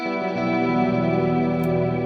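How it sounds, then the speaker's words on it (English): A sustained guitar chord shimmering with chorus and washed in reverb, swelling steadily and ringing on its own. "it's got a big reverb sound and some chorus and reverb"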